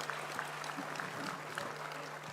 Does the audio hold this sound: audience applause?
yes